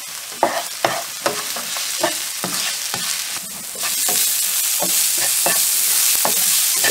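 Salted onions sautéing in a pan, a steady sizzle with a spatula clacking and scraping in an uneven rhythm, the frying growing louder and denser partway through, close up with no voices.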